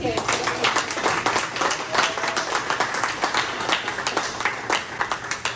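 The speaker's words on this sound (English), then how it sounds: "Let's give a round of applause to Case" Audience applause at a campus talk, dense continuous clapping from a crowd, fairly loud and even for several seconds before the speaker begins.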